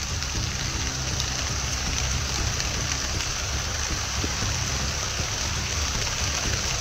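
Steady rain pours down outdoors, making a constant dense hiss at an even loudness with no break or voices throughout.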